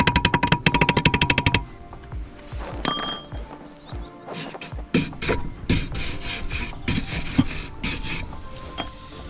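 Rust being scraped off a VW/Audi A2 drum brake: dense rasping strokes at first, then irregular scraping and scratching bursts, close and fairly loud with no talking.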